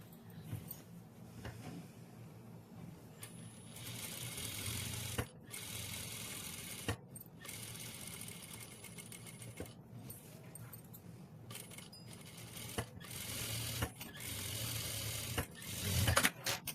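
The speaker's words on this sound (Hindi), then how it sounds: "अब इस सिलाई के ऊपर हम सिलाई लगा देंगे।" A sewing machine stitching along a beaded neckline runs in several fast, steady rattling bursts separated by short pauses and fabric handling, close and moderately quiet, no speech.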